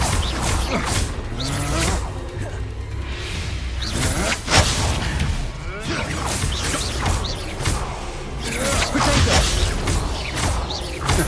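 Confringo fire blast spell from Hogwarts Legacy, a fiery whooshing burst with crackling impacts recurring through a dense, busy game mix of clashing effects, with no talk over it.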